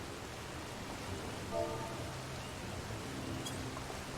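Rain falling in the video game Final Fantasy XIV, a steady, even hiss of drops filling the whole stretch at moderate level, with faint tonal game sounds drifting through and no voices.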